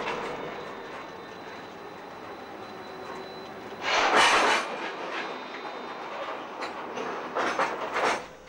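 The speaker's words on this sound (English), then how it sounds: "whilst the train is being marshalled by a class T46" A freight train of ore wagons being marshalled by a class T46 diesel locomotive on the Malmbanan line. Low rolling rumble with the clank of heavy couplers, then louder bursts of screeching metal and clatter later on.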